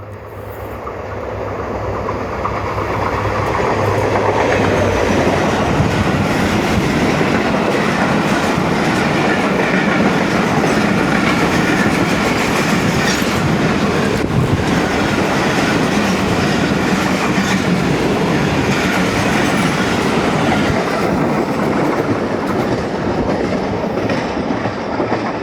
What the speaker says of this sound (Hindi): 2 डाउन खैबर मेल जो पेशावर से चली अपनी मंजिल कराची की तरफ।